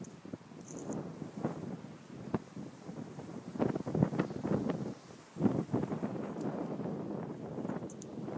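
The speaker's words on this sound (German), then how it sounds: "Übrigens ultra windig heute." Gusty outdoor wind buffeting a phone microphone on a very windy day, with uneven rumbling bursts and swells that rise and fall throughout, loud and close.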